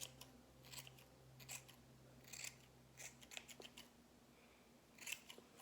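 Scissors trim the edges of a wool pompom, making a series of quick, crisp snips close up in a quiet room, irregularly spaced with short pauses between cuts.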